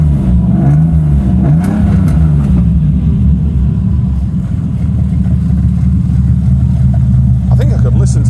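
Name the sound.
TVR Tamora sports car engine revving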